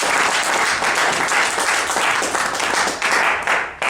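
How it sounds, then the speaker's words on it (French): Wedding guests applaud during a civil marriage ceremony, a loud, dense, continuous wash of clapping from a crowd lasting the whole stretch. "Sous vos applaudissements, s'il vous plaît"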